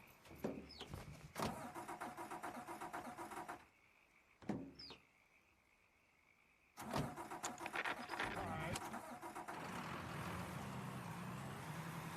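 A video game car engine cranks and catches, then a second start follows after a quiet pause. It settles into a loud, steady running roar with voices talking over it.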